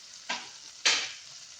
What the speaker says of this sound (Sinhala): ඊට පස්සේ කපාගත්ත ලුණු ටිකක් මේකටම එකතු කරන්න. ටික වෙලාවක් බැදෙනකොට